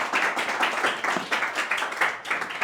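An audience at a group discussion event applauding a speaker: steady, dense hand clapping from many people close by, continuing evenly throughout without pause.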